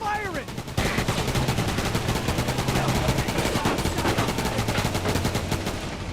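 A vehicle-mounted weapon in the game Roadkill fires as a sustained rapid machine-gun stream, loud and close with a steady rattling rhythm for several seconds after a brief lead-in.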